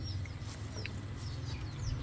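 A chicken clucks in brief, faint calls over a steady low rumbling background outdoors, with no speech.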